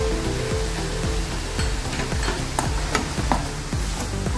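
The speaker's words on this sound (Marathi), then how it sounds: "असं हलवून घ्या चांगलं।" Salt and chili powder being stirred into paneer in a pan: a continuous close sizzle with repeated scraping strokes of a spoon against the pan, roughly two per second.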